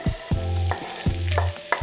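Onions land in melted butter in a sauté pan after the brown bits are scraped loose, making a lively sizzle with a few quick stirring knocks and scrapes, all close and with no voices.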